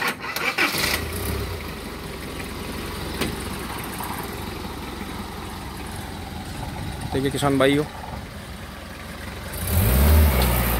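A farmer's heavy-built 4x4 jeep engine starts and revs, rumbling steadily under loud nearby talk, with a stronger rev swelling near the end.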